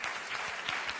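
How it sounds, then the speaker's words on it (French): A studio audience applauds on a French TV quiz game show, a dense, steady wash of clapping heard up close with no talk over it. "On applaudit Cyril"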